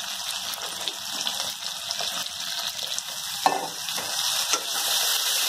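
Okra frying with spices in a pan for an okra and fish dish in mustard sauce, a steady close sizzle with occasional stirring scrapes and bursts of hissing.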